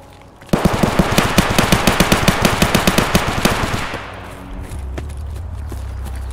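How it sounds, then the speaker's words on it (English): Rapid automatic gunfire in Escape From Tarkov rattles out in a loud, evenly spaced burst of about twenty shots, then stops and leaves a low hum and faint shuffling. "some shots"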